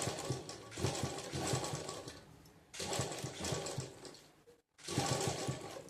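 Sewing machine running in bursts while stitching cut-work on a blouse back neck, with a steady rapid mechanical rattle, brief pauses and one abrupt stop near the end, close and fairly loud.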